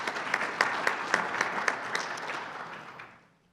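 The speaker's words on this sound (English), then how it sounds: "let's give them a round of applause" A conference audience gives a round of applause for the event's sponsors, dense steady clapping with a few distinct nearby claps that fades away at the end.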